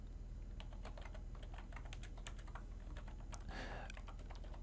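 Rapid typing on a computer keyboard while writing SAS code, a steady run of close, light key clicks with a brief louder burst near the end and no voices.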